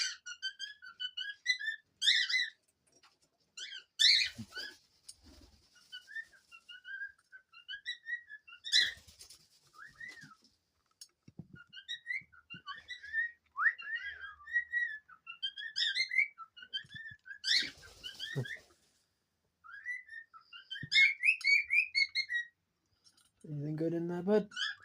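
Pet cockatiels chirp and whistle in a lively, near chorus of rising and falling calls, broken by short pauses, with a few soft scratchy sounds and a low voice near the end.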